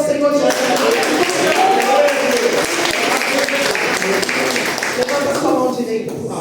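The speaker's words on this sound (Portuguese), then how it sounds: "aplauda o Senhor Jesus" A church congregation claps and cheers in praise at a worship service, loud dense applause filling the room with voices mixed in.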